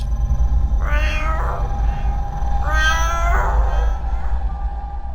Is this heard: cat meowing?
yes